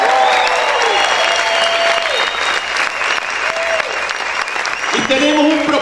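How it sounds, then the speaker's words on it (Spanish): A church congregation claps and cheers loudly together, a dense sustained wash of applause with shouting voices rising through it, with people speaking over it. "A ver cuántos pueden gritar y aplaudir fuerte al Señor."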